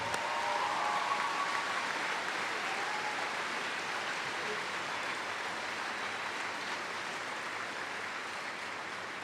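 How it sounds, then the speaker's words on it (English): An audience at a 2007 high school graduation ceremony gives a long, steady round of applause, heard from a moderate distance as an even wash of many hands. "Let's give them a nice round of applause."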